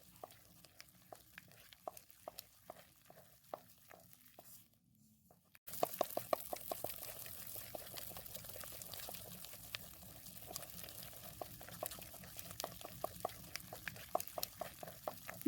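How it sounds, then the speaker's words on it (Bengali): Ground urad lentil batter for rasbora is beaten by hand in a bowl, giving steady rhythmic slapping and whisking strokes. The strokes sound soft at first, then louder and denser after a short pause, and carry on continuously with no talk. "ডাল বাটাটা একটু বেশি সময় ধরে ফেটাতে হবে"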